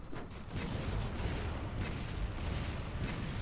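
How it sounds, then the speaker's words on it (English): Weapon fire aimed at Kulve Taroth in a video game: a dense, continuous stream of booming shots and impacts at steady loudness, with no talk. "once you see Kulve Taroth kinda going towards the wall, start shooting"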